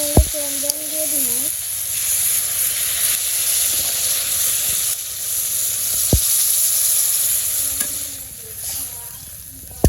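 Vegetables in a village kitchen pan give off a steady hiss of sizzling and steam after water is poured in, a constant moderate wash with a few brief clicks and faint stirring.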